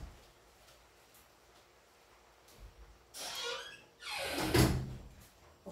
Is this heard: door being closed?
yes